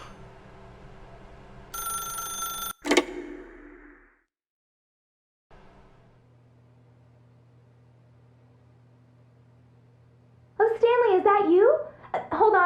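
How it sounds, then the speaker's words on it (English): Old-fashioned telephone bell ringing in The Stanley Parable: Ultra Deluxe video game, a loud burst of ringing with a sharp click, followed by quiet room tone and a voice speaking near the end. "If you can truly place your faith in another, then pick up the phone."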